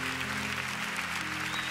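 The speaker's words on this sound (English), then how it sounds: "Why don't we just give Prof a big clap right now?" An audience claps for a professor after a lecture, a dense, steady wash of applause throughout.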